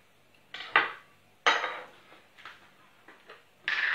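A knife finely chops dried tomatoes packed in oil on a cutting board, a few separate sharp taps and scraping chops at irregular intervals, close and fairly quiet, with no voices.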